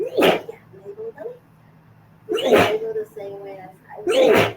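Sneezes in a trigonometry classroom, sharp bursts heard twice, close and loud, with an instructor talking between them.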